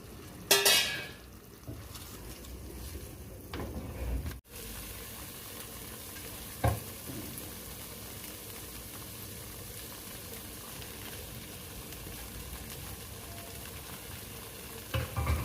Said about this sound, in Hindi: हाई फ्लेम पे हम इसे ड्राई कर लेंगे। अब हम इसमें लॉलीपॉप्स डालेंगे।